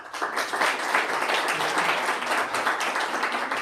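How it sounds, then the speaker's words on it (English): A conference audience applauds a new participant taking the stage at a food and tech pitch event, steady dense clapping from many hands that holds at an even level throughout. "very warm welcome and big round of applause"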